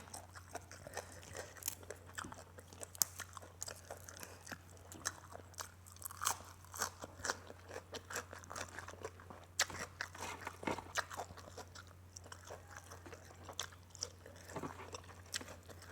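Crunchy papaya salad being eaten up close, giving steady, repeated crisp crunching and chewing bites throughout, with a low constant hum in the background.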